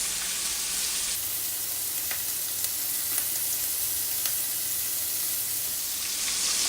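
Sausage fries in a single pot for pasta, giving a steady, close sizzle and hiss with a few soft stirring clicks and no talk.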